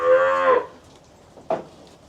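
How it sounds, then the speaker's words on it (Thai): Cow mooing at a cattle and buffalo market in Tak, Thailand: one long, loud, harmonic moo lasting about half a second, followed after a pause by a second, shorter and fainter call. "กับวัวตัวเมียแล้วก็ชุดลูกวัวครับผม"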